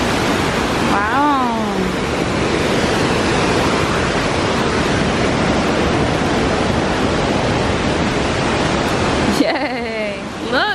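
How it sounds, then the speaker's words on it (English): Loud waterfall roaring continuously with dense rushing water that fills the whole stretch, heard close by, with voices speaking briefly near the start and end. "it feel like we somewhere else with the water being loud"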